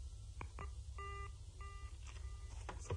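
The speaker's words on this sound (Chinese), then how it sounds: "电话的那边在片刻的宁静之后，又是挂断电话的声音和无尽的盲音" A telephone line on the other end is hung up, followed by faint electronic beeps and repeated tonal bursts like a busy signal, quiet and thin over a low background hum.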